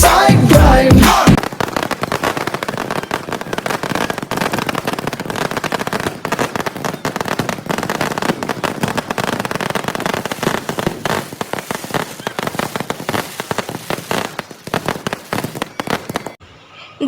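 Diwali firecrackers and fireworks go off in a loud, dense barrage, with a big opening blast followed by continuous rapid crackling and popping for many seconds before it abruptly cuts off.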